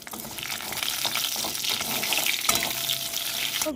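Loud, steady sizzling and crackling of whole spices frying in hot oil, close up, with occasional stirring scrapes.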